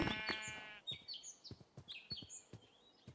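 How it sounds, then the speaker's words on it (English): Sheep in the Minecraft video game give a loud bleat up close, followed by faint scattered bird chirps, soft clicks and footstep taps in a quiet outdoor scene. "Alright, come here, sheep."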